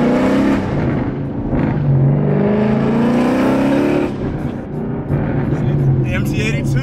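A Ford Mustang GT with a manual MT82 gearbox pulling away for a drive, its engine droning steadily up close inside the cabin with rising and falling pitch, while people talk over it.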